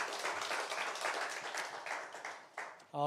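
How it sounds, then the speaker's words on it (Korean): A church congregation clapping together during a Sunday worship service, a lively burst of many hands that thins out toward the end before a sung or sustained tone cuts in. "우리 함께 영광의 박수 올려드리겠습니다"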